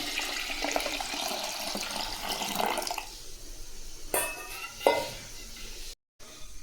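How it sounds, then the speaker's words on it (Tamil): Water rushes into a pot of raw rice and lentils being readied for temple-style pongal, a steady pour lasting about three seconds, followed by a few faint clinks and splashes in a quiet kitchen. "மூணு டம்ளர் அளவுக்கு நம்ம தண்ணி சேர்த்துக்கிறோம்"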